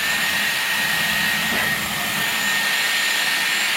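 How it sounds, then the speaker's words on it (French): A hair dryer blows steadily and loudly close by, a continuous broadband whoosh with a faint high whine that holds unbroken throughout. "je vais me sécher les cheveux"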